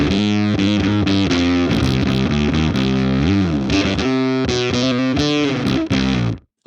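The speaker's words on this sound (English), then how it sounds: "The fact that that's quite a retro sounding fuzz in many ways." A bass guitar played through a boutique handmade Flattley fuzz pedal gives a loud, thick, retro-style distorted tone with shifting notes and slides, then cuts off sharply at the end.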